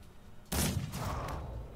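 A gunshot in the video game Mordheim: City of the Damned, one loud sudden blast that breaks in after a quiet moment and trails off into a rumbling tail.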